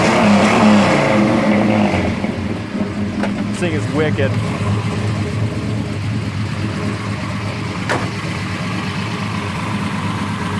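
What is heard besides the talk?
big-block V8 car exhaust revving and idling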